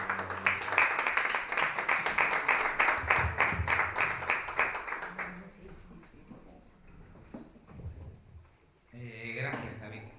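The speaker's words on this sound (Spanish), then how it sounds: "Me gustaría que le diéramos un fuerte aplauso." At a poetry event, audience applause rings out for about five seconds in a busy patter of claps, then fades as someone speaks.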